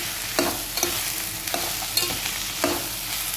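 Mixed vegetables for upma fry in a pan over a medium flame, giving a steady close sizzle broken by a handful of spatula stirs and scrapes spaced about half a second to a second apart, with no voices.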